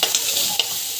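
Vegetables fry in a pan while being stirred, a loud close hiss with quick scraping strokes and light knocks over about a second.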